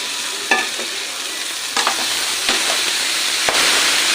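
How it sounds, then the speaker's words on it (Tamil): Chopped tomatoes and green chillies sizzle loudly in hot oil for crab masala, a steady frying hiss broken by a few sharp spatula scrapes and taps against the pan. "இது வந்து தக்காளி வந்து நல்லா வதங்கணும்"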